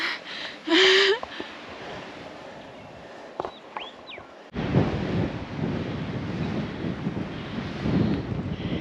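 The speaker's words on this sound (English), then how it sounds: "It's getting really windy and chilly" Gusty wind buffets the microphone in heavy roaring bursts on a mountain hike in Tasmania, after a brief quieter stretch with a few faint chirps.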